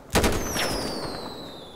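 A firework rocket fired in GTA V goes off as one sharp, loud blast. Whistling, descending tones trail behind it and fade over the next second and a half.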